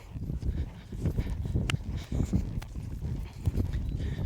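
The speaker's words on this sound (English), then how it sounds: "I'll show you how to make the canter small. So this is a big canter." Hooves of a horse in a big canter thud in a steady rolling three-beat rhythm, close and fairly loud, with scattered faint clicks and no talk.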